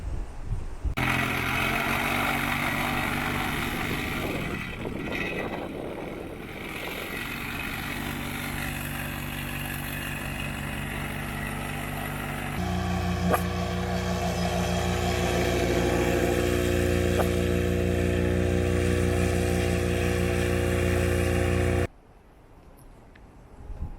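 A gasoline tamping rammer compacts gravel fill in a dug foundation pit for a self-built house. Its steady, loud engine drone with harmonic buzz runs for about twenty seconds, then cuts out abruptly.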